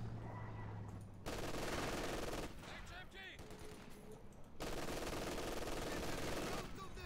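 MG-42 and light machine gun fire in a video game, heard as dense, sustained bursts of rapid shots that cut off briefly and then resume at full, loud strength.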